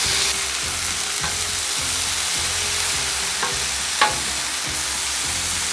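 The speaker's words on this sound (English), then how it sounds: "Okay, I'm going to give our butter a nice stir here." Lamb chops sizzle in butter on a Blackstone flat-top griddle, a steady, loud frying crackle throughout with a few scraping stirs of the butter and no talking.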